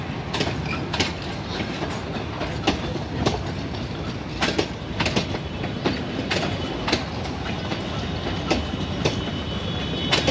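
A YDM4 diesel locomotive hauls a passenger train near Palia on the Mailani–Nepalganj line, wheels clattering in a steady rhythmic clickety-clack over rail joints, close and continuous with rumbling underneath.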